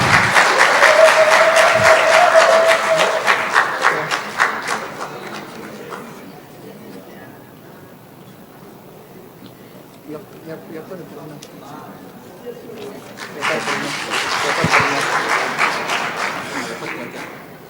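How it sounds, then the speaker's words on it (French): Audience applause at a year-end graduation ceremony for foreign students in Bejaia, with a strong burst of clapping at the start that fades into talk and a murmuring crowd, then a second swell of clapping near the end. "Applaudissez pour Monsieur Bayamel."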